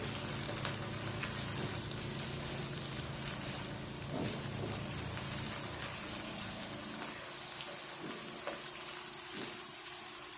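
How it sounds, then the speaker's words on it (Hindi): Yogurt frying with beef in a karahi pan, a steady dense sizzle throughout, moderately loud and close, with occasional soft stirring knocks. "ये दही डाल के थोड़ा सा भून लेती हूँ, मैं इसे फ्राई कर लेती हूँ"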